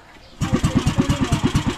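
A new boat engine on a fishing trip stays quiet at first, then catches and settles into a loud, close, rapid rhythmic chugging that throbs evenly to the end.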